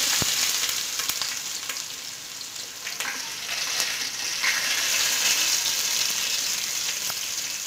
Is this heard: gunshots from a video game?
no